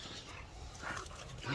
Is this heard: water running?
no